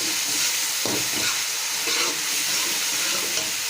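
Bay leaves and whole garam masala being stirred in a pot of hot oil for matar pulao, a steady loud sizzle with scraping stirring strokes throughout and no talk.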